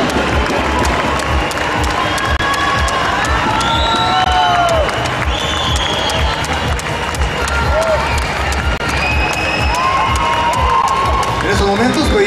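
Loud, continuous crowd cheering and applause fill a Miss Guatemala 2010 pageant coronation, with shouts and whoops rising over steady clapping throughout.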